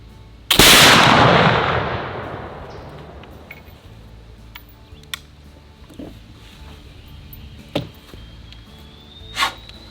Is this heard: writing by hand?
no